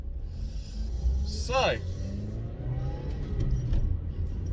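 Engine of a small 1.25-litre five-door hatchback rumbling steadily from inside the cabin as it pulls away, with a brief rising whine midway and someone talking over the drive.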